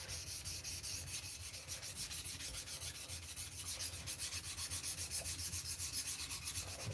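A gyuto knife is stroked along the full length of a GNS 300 whetstone, producing rhythmic, evenly paced rasping rubs, about two per second, close and steady with no talking.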